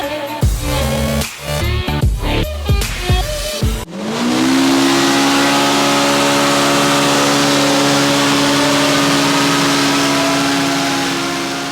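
A Polaris RZR Pro R engine, running tuned ECU flash software, revs in several quick blips on a dyno, then holds a loud, sustained high-rpm drone close up.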